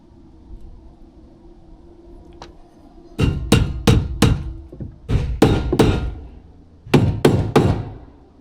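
Sharp, loud hammer blows nailing roof fascia on an outhouse, in quick bursts of three to four strikes each, separated by short pauses, close by.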